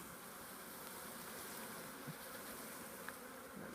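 A package of honey bees buzzes in a dense, steady drone, quiet and continuous, with no voices over it.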